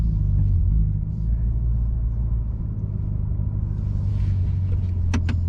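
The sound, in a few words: Chevrolet Corvette C8 launch control acceleration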